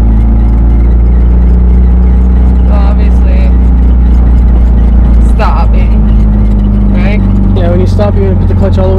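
Manual transmission car cruising in second gear, a loud steady engine drone and hum from inside the cabin with no revving changes, while people talk over it.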